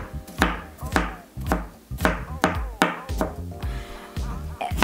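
A copper knife dices an apple, giving a steady series of about nine sharp chops on a board, each a distinct thud close up, evenly spaced about half a second apart.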